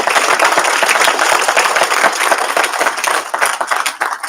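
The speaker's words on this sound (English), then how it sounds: "we can clap for her" An audience at a graduation ceremony claps for a retired staff member: dense, steady applause, close and loud for the whole stretch.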